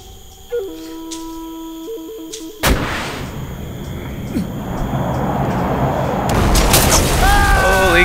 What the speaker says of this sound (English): we got some kick-ass shooting there